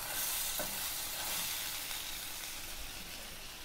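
Crab masala frying in a pan, a dense continuous hissing sizzle with occasional soft stirring scrapes, close and steady without talk.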